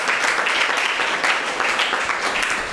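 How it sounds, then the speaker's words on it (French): Audience applause at a leadership talk, a steady dense wash of clapping filling the whole stretch at an even, loud level. "Applaudissez pour elle."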